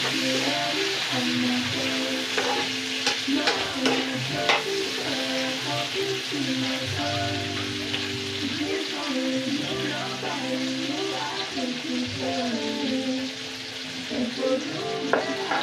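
A spoon stirs tomatoes frying in a pan with omena fish, small silver cyprinids in a Kenyan recipe, giving a steady close sizzle with scraping and clinking throughout.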